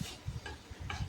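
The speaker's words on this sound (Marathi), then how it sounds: "तर आता ते चांगलं परतवून घेऊया." A spoon stirs grated coconut roasting in ghee, with soft scraping strokes in an irregular rhythm over a faint sizzle, quiet and close.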